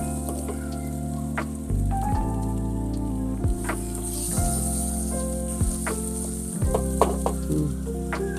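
Ginger and garlic sizzle steadily in hot oil for a mango-style chutney, a continuous close frying crackle with occasional stirring scrapes and no voices.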